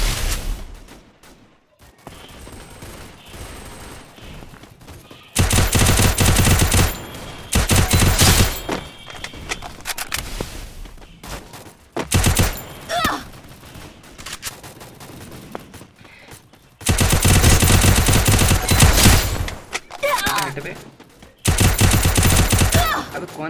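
UMP submachine gun fire in the Free Fire battle royale game during a solo-versus-squad match, coming in loud, rapid bursts separated by quieter stretches, with occasional talk faintly underneath.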